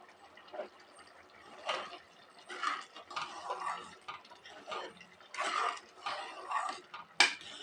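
Thick cluster bean gravy bubbling and popping at a steady simmer in a pot, soft and close, with irregular bursts of gurgling and no voices.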